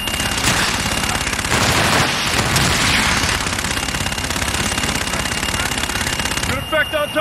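Called-in fire strike in Call of Duty Infinite Warfare: a sustained barrage of loud, rapid automatic gunfire and impacts, dense and continuous, easing slightly near the end.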